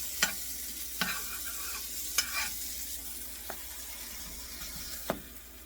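Butter and a tortilla in a frying pan for a breakfast quesadilla give a quiet, steady sizzle, broken by a few sharp clicks and scrapes of a utensil against the pan, with no voices.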